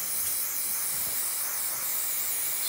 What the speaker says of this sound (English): Spray it down pretty liberally,